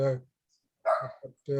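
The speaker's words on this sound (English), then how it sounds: "I'm gonna mute that. That's my dog." A dog barking nearby in a home during an online book club call, with a few sharp barks close together and brief pauses between them.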